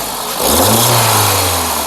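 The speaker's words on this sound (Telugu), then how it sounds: "ఇంజిన్ యొక్క నాయిస్ కూడా సైలెంట్గా అయితే ఉంది" A 2011 Volkswagen Vento Highline engine hums at idle, then revs up into a steady, louder drone that holds and eases slightly near the end.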